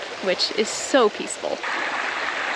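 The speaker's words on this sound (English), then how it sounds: "you can even hear the water running from camp" A stream runs beside an Airstream campsite near Telluride, giving a steady rushing wash of water that fills the background. A person speaks softly over it at the start, and the water continues alone afterward.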